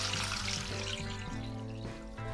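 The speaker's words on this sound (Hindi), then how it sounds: "और साथ ही ये पानी डाल।" Water poured from a vessel into a pot of chicken with clove, cinnamon, onion and garlic for yakhni pulao, a steady close trickle with a faint rhythmic tapping underneath and no talk.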